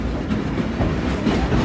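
A train rolls steadily toward Queen Mary's Tunnel, a loud close rumble with rhythmic wheel clatter and no voices.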